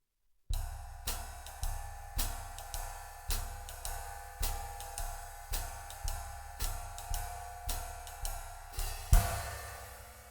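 A drum kit lays down a basic swing ostinato with ride cymbal, hi-hats and bass drum: a steady, evenly spaced pulse of sharp cymbal strokes over soft kick thumps, close and solo, with one louder accent near the end.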